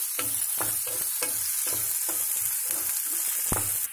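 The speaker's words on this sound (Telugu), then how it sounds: "ఆనియన్స్ బాగా గోల్డెన్ బ్రౌన్ వచ్చే వరకు వేయిద్దాము" Onions frying in a pan toward golden brown: a loud, steady sizzle close by, with a spoon scraping through them at a regular stirring rhythm.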